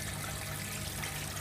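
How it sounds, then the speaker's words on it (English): A Simpson 8.5kg washing machine pump drains water in a steady, continuous gushing rush with a low motor hum beneath, constant in level and close, with no talking. "So the pump kicks on and off drains."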